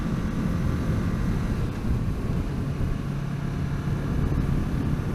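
A motorcycle engine drones steadily while riding up through the gears toward fifth, a low even hum buried under constant wind rush with no distinct rev spikes standing out.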